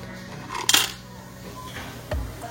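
Whole spices (cinnamon sticks, cloves, cardamom, a bay leaf and star anise) dropped into a hot Instant Pot land with a sharp clatter, then a quieter thud a moment later, over a faint background hum.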